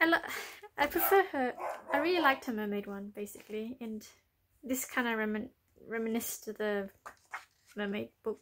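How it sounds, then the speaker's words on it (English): A dog barks intermittently from another room in the background while someone talks about adult coloring books in a room indoors. "you might hear my dog barking up back there"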